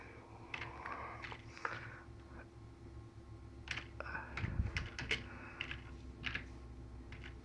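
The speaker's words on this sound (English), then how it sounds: "I'm typing with one hand, filming with the other." Typing on a computer keyboard with one hand, clicking keys in short irregular bursts close by, with faint background noise and a brief thump partway through.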